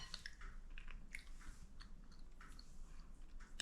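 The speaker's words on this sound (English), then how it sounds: "I'm just going to taste the batter." Someone tasting savoury Indian pancake batter, a few soft, wet chewing and mouth sounds, close and quiet, with no talking.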